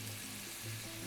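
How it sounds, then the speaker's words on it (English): Bacon-wrapped filet mignon searing in a pan as bacon fat renders, giving a faint, steady sizzle that stays even and quiet throughout the short moment, with no voices. "We got our bacon fat rendering down. We have our filet sizzling"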